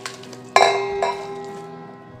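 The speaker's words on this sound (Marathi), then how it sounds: "मी आता ही जमा झालेली साय सगळी टाकून घेते भांड्यात।" Collected milk cream is scooped into a cooking pot for homemade ghee. Two sharp, close metallic clinks of a spoon against the pot ring out and fade slowly.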